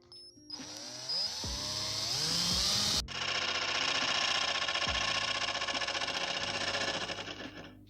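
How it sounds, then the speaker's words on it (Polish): A power drill whines briefly, then a jigsaw takes over with a loud, steady buzzing rasp as it cuts an opening along a marked line in a camper van build, running continuously close by. "Najpierw otwór wiertarką, następnie wyżynarką wzdłuż wyznaczonej linii."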